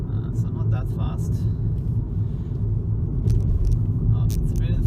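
A 2012 Nissan Leaf electric car driving on a road in Sardinia, Italy, at about 50 km/h, with a low steady rumble of tyres and road noise from inside the cabin beneath ongoing speech.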